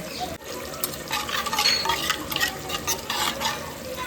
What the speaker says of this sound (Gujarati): પાણી નાખશું અને મિક્સ કરી લેશું આનું.